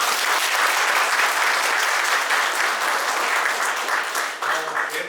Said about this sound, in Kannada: ಅವ್ರಿಗೆಲ್ಲ ಒಂದು ಚಪ್ಪಾಳೆ ಬರಲಿ